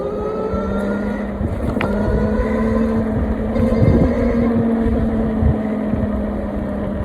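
A GT 54 electric dirt bike being ridden, giving a steady whirring motor tone with continuous wind and road rumble that swells slightly midway and runs loud throughout, with no talking.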